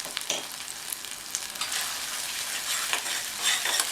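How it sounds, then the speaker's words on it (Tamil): Masala sautéed in hot oil and stirred for a raw banana side dish, with a steady sizzle and repeated spatula scrapes throughout and no talk. "இந்த எண்ணெயிலே நல்லா வதக்கி விட்டுக்கணும்."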